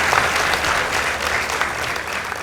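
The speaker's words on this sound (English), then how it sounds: "Let's give them a round of applause." An audience applauds a girls' high school debate team at a school debate, steady dense clapping filling the room throughout with no voices over it.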